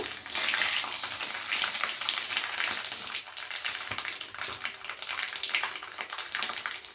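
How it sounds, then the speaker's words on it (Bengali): Panch phoron, mustard seeds and dried red chillies sizzle in hot oil, a dense, steady hiss with fine crackles running throughout at close range. "প্রথমে দিয়ে দিচ্ছি পাঁচ ফোড়ন এরপর দিয়ে দিচ্ছি সর্ষে শুকনো লঙ্কা"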